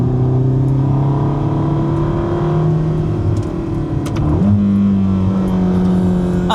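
A latest-model 2026 Ferrari V8 on the road in Portugal, loud and close from inside, holding a steady engine drone, then dipping briefly and climbing into a higher rev after a gear change.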